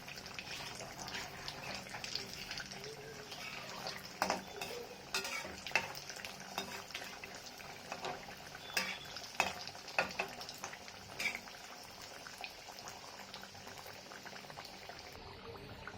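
Four potato-and-flour kachoris deep-fry in oil in a small wok, a soft, steady bubbling with occasional clinks and stirring, fairly quiet throughout.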